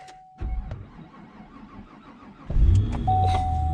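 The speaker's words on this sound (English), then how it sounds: "This is the first of all the trucks to start." A gasoline truck engine cranks and starts on an extremely cold day, a dull mechanical crank followed by the engine catching into a rough, louder idle near the end, close by with no talk.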